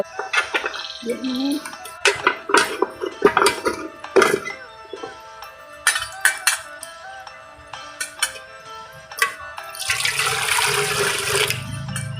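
Hot water drains out after neem flowers are blanched, heard as a loud rushing pour near the end, preceded by voices and clattering pots.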